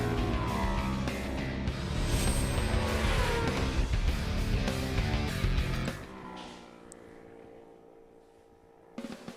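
Superbike racing motorcycles at Michelin Raceway Road Atlanta roar past loudly at close range, then the engine noise drops away sharply into a fainter distant hum.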